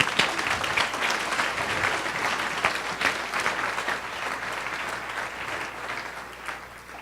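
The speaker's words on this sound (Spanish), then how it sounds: "Si lo entiende, denle un aplauso al rey," A church congregation bursts into sustained applause, dense clapping from many hands that slowly eases off over several seconds.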